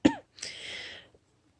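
A woman who is ill with Covid gives a single sharp cough, followed by a longer breathy, raspy exhalation, close and fairly quiet.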